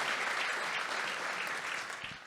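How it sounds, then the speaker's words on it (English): At a breakfast event, an audience gives a steady round of applause, producing a continuous, moderately loud wash of many hands clapping that holds evenly before easing slightly at the close. "please give them a round of applause"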